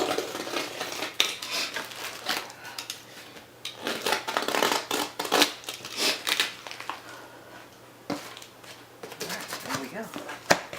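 A package holding plush toys is cut open in short bursts of scraping and crinkling cuts, close and fairly loud, separated by quiet pauses over a faint steady hum.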